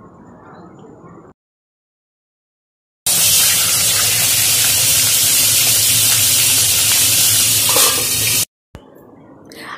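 Fish heads sizzling loudly in hot oil in a wok, a dense, steady frying hiss lasting several seconds between quieter moments.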